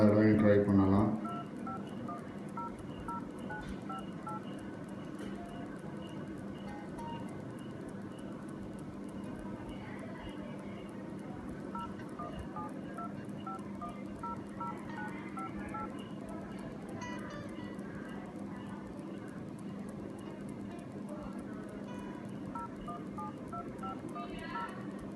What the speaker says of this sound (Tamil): அதே நம்பரை இன்னொரு தடவை போடுங்க. 51000958 இப்போ டயல் பண்ணுங்கள்.